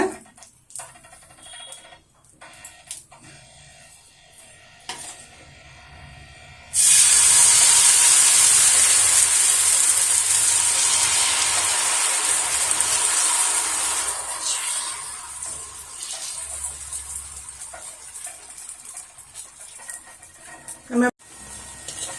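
Dosa batter mixed with green chili hits a hot griddle stone greased with oil or ghee and bursts into a loud, close hiss that slowly fades over many seconds, while a person talks throughout.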